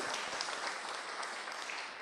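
Audience applause at a Buddhist Dharma talk, a steady soft wash of clapping hands lasting a couple of seconds, fairly faint and distant with no voices over it.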